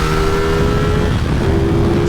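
A CF Moto 450SS motorcycle engine runs loud and close at high revs, a sustained steady tone that dips briefly midway before climbing again.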